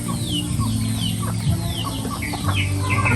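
Chickens of a native breed kept on a small farm cluck repeatedly with short calls, steady and fairly close over a constant low background hum, with no voices.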